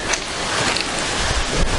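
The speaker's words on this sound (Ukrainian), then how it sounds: "Поки є дощик, а в наметі сидіти не хочеться." Rain falling outdoors near a beach campsite, a steady broadband hiss mixed with wind noise on the microphone, continuous and fairly loud throughout.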